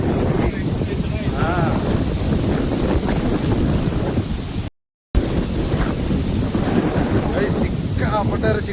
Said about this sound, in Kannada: ಸಿಕ್ಕಾಪಟ್ಟೆ ಗಾಳಿ ಬೀಸ್ತಾ ಇದೆ.